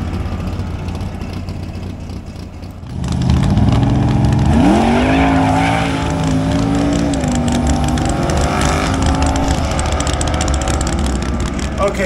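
A twin-turbo Ford Crown Victoria with a cheap junkyard engine revs hard at a drag strip, spinning its tires as if on ice, with a loud rising engine roar and whining pitch sweeps that continue steadily after a brief quieter start.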